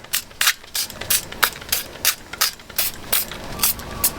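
A run of short, crisp bursts from a spray bottle of oil onto spring rolls, about a dozen in a steady rhythm, close by with no talking.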